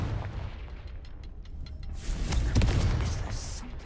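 Confringo fire spell explosions in Hogwarts Legacy, a series of loud booming blasts with crackling bursts building into a sustained rumbling roar, close and heavy, with no talk over them.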